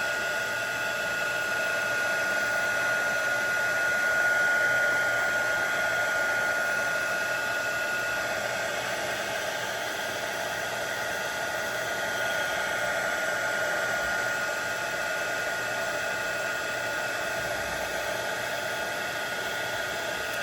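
A handheld heat embossing tool melts embossing powder on a stamped card. It blows a steady, loud, hair-dryer-like whoosh that holds at an even level the whole time, with no talking.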